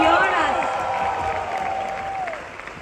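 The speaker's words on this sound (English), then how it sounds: "let's make them hear our applause" Audience applause rising for a composer's unseen back-end team at a live concert honouring his music, a broad crowd roar that stays steady for a few seconds, with a voice speaking over it near the start.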